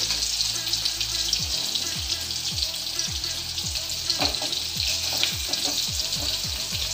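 Onions sizzling and frying in a hot pan, a dense steady crackle with rhythmic scraping strokes of stirring, close and continuous.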